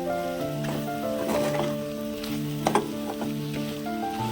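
Bottle gourd and sesame curry simmering on low heat in a pan, a soft steady sizzle and bubbling with faint crackles and a light stirring scrape, fairly quiet and close.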